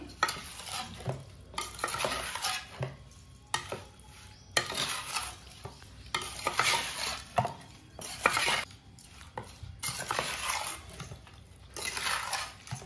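Fried mushrooms are mixed into a mushroom pickle in a bowl, with bursts of close scraping and clinking from a spoon separated by short pauses, and no voices.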